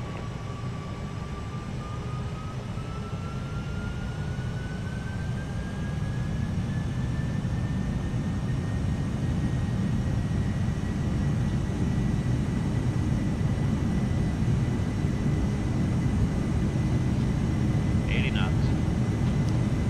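A PMDG 747-400F jet in Flight Simulator rolls down the runway for takeoff with a heavy, continuous low engine rumble and a thin whine that slowly rises in pitch, while people talk quietly over it.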